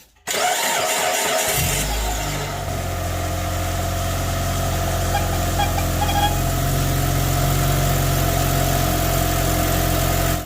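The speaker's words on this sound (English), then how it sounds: "I'm gonna start the engine, see if that white mark spin or not." A 2006-13 Mitsubishi Outlander 2.4L with a fluid leak and smoke from a belt rubbing at the water pump pulley cranks and catches within a second, then settles into a loud, steady idle heard up close.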